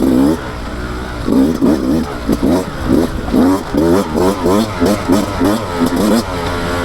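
A 2024 Beta 200 RR Race Edition dirt bike engine revs in second gear with repeated rising and falling bursts, loud and close, while someone talks over it.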